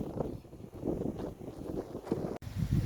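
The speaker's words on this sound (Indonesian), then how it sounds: "Anginnya sangat kencang, kalau teman-teman bisa dengar suara angin sangat kuat ya." Strong wind at Baluran National Park buffets the microphone in irregular, rumbling gusts, close and fairly loud, with no talking.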